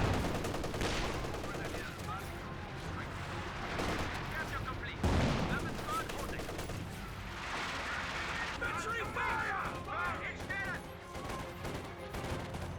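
Company of Heroes 2 battle with an artillery barrage and gunfire: repeated booming blasts and crackling shots rumble continuously beneath an ongoing commentator's voice.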